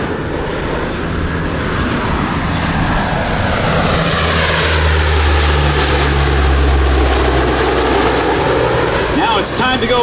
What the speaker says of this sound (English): And the P-8 from the left on a high-speed pass.